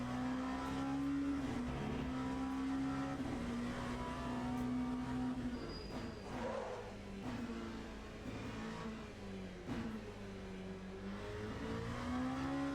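An LMP2 prototype race car in the Le Mans Ultimate racing game, its engine revving up and down through gear changes in a steady, fairly quiet stream with no voices over it.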